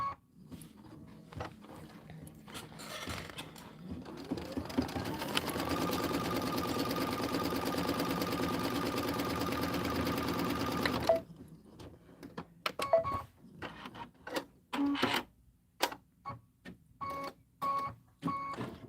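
A sewing machine stitches quilt borders in a steady, loud run of about six seconds that spins up and then stops abruptly, with handling clatter and button taps before and after.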